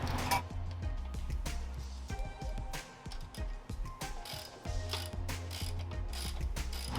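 A bolt is snugged up with a ratchet to install a bow holder, heard as rapid ratcheting clicks in several bursts with brief pauses, close and moderately loud, with no voices.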